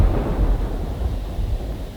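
Thunder from a thunderstorm rolls as a low, continuous rumble for about two seconds, steady and fairly loud with no voices over it.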